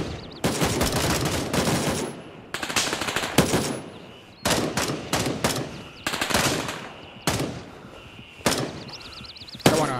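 Gunfire in the military shooter Gray Zone Warfare, loud bursts of automatic rifle fire in several long volleys separated by brief pauses, close and sharp.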